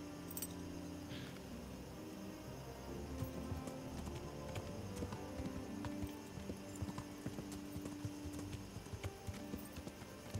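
A horse in Kingdom Come Deliverance trots along, its hooves clip-clopping in a steady rhythm with faint tack jingling, continuous over a low in-game ambience.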